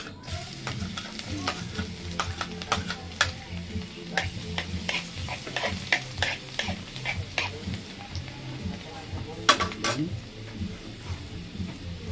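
Garlic sautés in a hot pan, with a continuous crackling sizzle broken by frequent sharp clicks and taps of a utensil stirring against the pan, close and fairly loud throughout.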